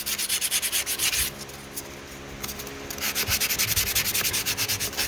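Sandpaper rubs lightly back and forth over a 1983 Porsche 944 dash to take off burrs, a close, rhythmic rasping in quick strokes with a brief pause midway and no talk.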